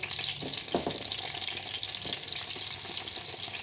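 Eggplant halves frying cut side down in hot oil, a soft steady sizzle and hiss with a few faint pops, moderately quiet.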